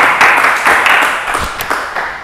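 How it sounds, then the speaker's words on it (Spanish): A church congregation applauds, a dense, loud burst of clapping that swells in waves and holds across the whole moment. "Un aplauso, Señor."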